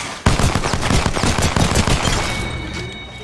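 Loud, close automatic gunfire in a shooter game, Apex Legends or Warzone, with dense rapid volleys through most of the moment before trailing off into a fading echo.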